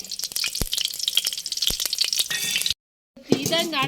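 Greens, turmeric and mustard seeds fry in a pan, a bright close sizzle with sharp pops and stirring scrapes, then a brief silence before a louder hiss resumes.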